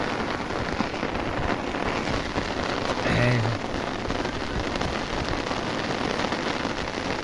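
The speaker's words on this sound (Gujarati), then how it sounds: "વરસાદ તો આવે છે, આમ જોઈ લે" Steady rain hisses and patters on surfaces throughout, with one brief low thump partway through; no voices.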